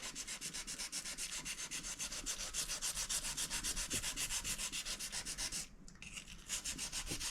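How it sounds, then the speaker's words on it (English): A scalpel edge is honed by hand, held in one hand with a micro bevel, producing a close, steady run of rapid rhythmic rubbing strokes with a brief pause near the end and no talk. "when you're sharpening, you can just stay in one hand like this"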